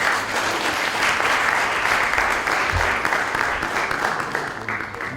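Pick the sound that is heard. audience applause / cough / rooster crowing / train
audience applause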